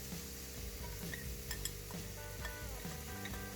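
Onions frying in a pan with butter substitute and olive oil, a soft steady sizzle under repeated clinks and scrapes of a utensil stirring against the pan.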